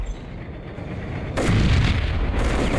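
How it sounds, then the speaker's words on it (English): A sudden loud blast goes off in the Max Payne video game, after a quiet moment, followed by a rumbling, crackling aftermath that stays at high level. "I could actually blow this up."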